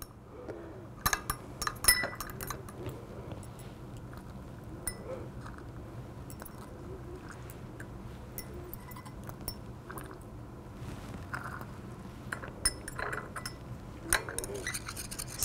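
A glass rod stirs benzoic acid dissolving in a hot solution during a recrystallisation, giving light repeated clinks and taps against glass over a steady low background hum.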